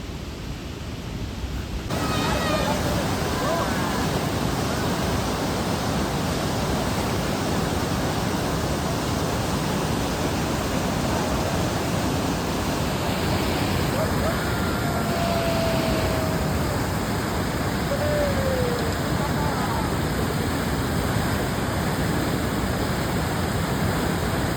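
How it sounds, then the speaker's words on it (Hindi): A powerful river rushing on the Hampta Pass trek, a loud, continuous broadband roar of fast-flowing water that holds steady throughout, close and overwhelming. "नदी की आवाज़ इतनी पावरफुल थी कि कभी कभी हम एक दूसरे की आवाज़ भी नहीं सुन पा रहे थे।"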